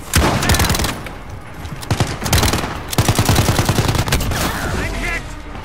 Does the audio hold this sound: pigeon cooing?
no